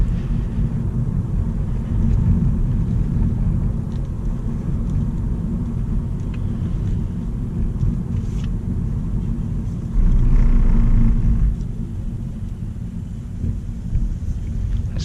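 Low, steady rumble of road and tire noise inside a 2022 Honda Civic RS sedan driving in Manila, loud and continuous with a brief swell in volume, and no talking.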